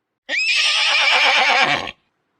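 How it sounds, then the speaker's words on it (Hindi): A horse pulling a tanga cart at night, reined in hard, lets out a single loud, close neigh lasting over a second, heard alone against silence. "घोड़े हिनहिनाते हुए पीछे पैरों पर खड़े होकर रुक गए।"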